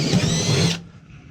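A battery drill with a weak battery whirs loudly at close range for under a second, then winds down and stops, during a furnace installation.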